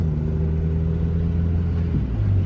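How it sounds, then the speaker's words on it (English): A Toyota GR86 / Subaru BRZ fitted with Tomei headers rumbles loudly through its exhaust, a deep steady drone that shifts pitch near the end as the driver downshifts, heard close with no talking. "Every time he downshifts, it's dummy loud for no reason."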